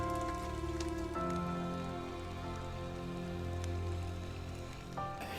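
Rain falling on the covered roof of a hunting blind in the woods, a steady patter of drops with sustained tonal hum underneath throughout.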